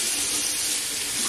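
Warm water pours steadily from a tap into a bathroom sink, a close, continuous rushing splash with no talk.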